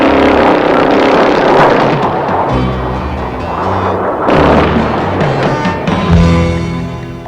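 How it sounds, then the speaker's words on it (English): A GAU-13 30mm Gatling gun, the core of the GPU-5A gun pod, fires in a loud, sustained, rumbling roar that swells and eases over several seconds. No talking is heard. "The heart of the GPU-5A is the GAU 13 30mm Gatling gun"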